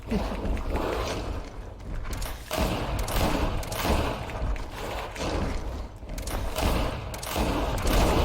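Rapid bursts of gunfire in the GreedFall video game, dense rattling volleys with heavy thumps repeating almost nonstop, loud and close, with a voice talking briefly under the action.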